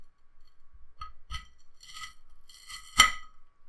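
A knife cuts through a crispy Ferrero chocolate about 2.7 cm across, giving a few short crunchy crackles that build to one sharp, louder snap near the end, close and alone.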